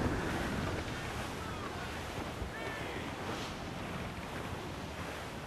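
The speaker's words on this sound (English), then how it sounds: "That wind's no small gale" A strong gale and crashing waves at sea in Assassin's Creed Black Flag, a loud, continuous roar of wind and surf throughout with no talking.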